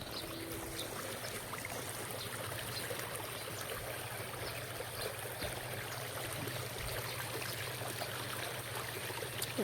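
Stream water flows with a soft, continuous babble, fairly faint and even throughout, and no voices.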